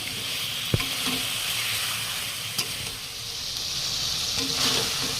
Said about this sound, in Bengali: বেজে রাখা আলু আর পটল দিয়ে একসাথে ভালো করে মশলার সাথে মিশিয়ে দেবো